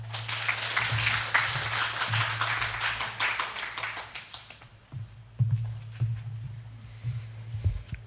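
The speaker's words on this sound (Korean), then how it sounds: "24시간 장애인 도움콜 활동과 노력에 대해서 다시 한 번 더 큰 박수 부탁드리겠습니다" An audience applauds after a speech at a 2022 results-reporting event for a 24-hour disability help-call service; a crowd's clapping, dense at first, thins into scattered claps, with a steady low hum underneath.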